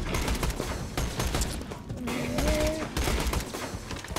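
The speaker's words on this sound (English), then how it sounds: "I hear you shooting, partner, where are you?" Rapid automatic gunfire in the shooter Borderlands 2 during an arena battle, dense repeated shots with short pauses, loud and close throughout.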